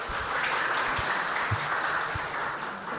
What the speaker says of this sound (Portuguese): Uma salva de palmas, olha aí.